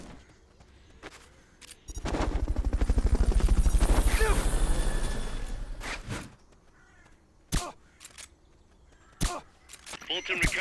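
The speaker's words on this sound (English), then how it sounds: "Fulton recovery helicopter is complete." Fulton recovery helicopter in Metal Gear Solid: Peace Walker, a loud rhythmic rotor beat swelling up and fading away over about four seconds, followed by sharp isolated clicks and thumps.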